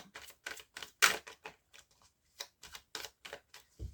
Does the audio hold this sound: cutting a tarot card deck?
yes